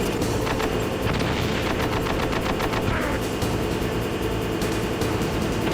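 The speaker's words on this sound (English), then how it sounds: "I would love to know why these grenades are going off at such weird times" Grenades go off in the Metal Gear Solid video game, a loud dense run of blasts and rapid crackling bursts that sounds much like sustained gunfire, with no voices over it.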